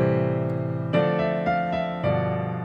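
Solo piano plays a tune harmonized with basic seventh chords, sustained chords struck every half second or so, moderately loud and close, without any voices.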